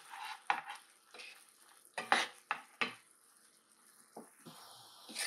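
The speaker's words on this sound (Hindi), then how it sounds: "इसको कर रही हूँ मैं अच्छे से मिक्स।" A spoon stirs a chilli paneer gravy mixture in a pan, with several distinct scraping clinks and knocks against the metal, close and fairly quiet, with no talking.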